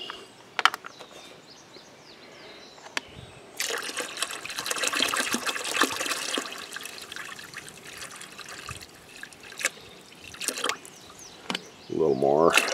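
Ammonia poured into a tub for soaking cast iron, a steady liquid splashing and trickling that swells loud midway through, with light clatter around it and a brief voice near the end.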